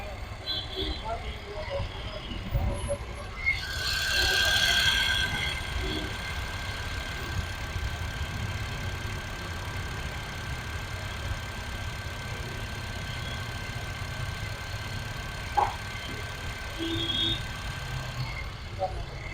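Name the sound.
Honda Brio petrol engine idling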